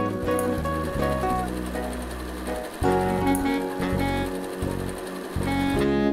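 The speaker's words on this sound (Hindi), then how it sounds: "इस तरफ भी क्वार्टर इंच सीम अलाउंस के साथ आप इसको सिल दीजिए।" Sewing machine stitching a quilted yoga mat seam at a quarter-inch allowance, running steadily and loudly with a continuous rhythmic whir that briefly changes pace midway, close up.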